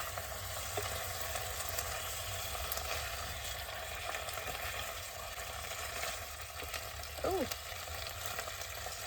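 Food sizzling and browning in a pan with some liquid, cooked in a van on a cold day, a steady close crackling fry running throughout, with a brief spoken word near the end.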